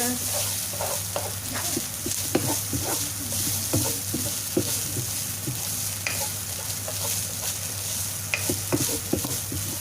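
Eggplant with minced pork and tofu stirred and fried in a pan, Chinese style, a steady loud sizzle broken by frequent scraping and clacking strokes of a utensil throughout, with no talking.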